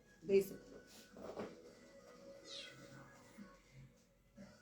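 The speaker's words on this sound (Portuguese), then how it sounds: "Meu gatinho." A pet cat gives a few soft, quiet meows spread across a few seconds indoors, with a person's voice faintly in the background.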